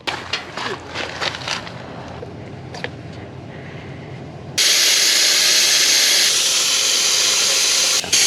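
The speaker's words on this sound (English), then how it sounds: "hop out and drop some tire pressure" Air hisses out of an overlanding vehicle's tire as its pressure is lowered on a forest service road: a few clicks and faint hissing first, then a loud, steady rush of escaping air that runs to the end.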